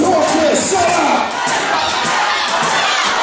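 Roaring wrestling crowd at an EAW caged warfare show, dense sustained cheering and shouting, loud and close, with occasional thumps beneath the noise.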